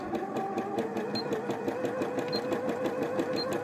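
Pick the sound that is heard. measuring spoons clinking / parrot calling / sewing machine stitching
sewing machine stitching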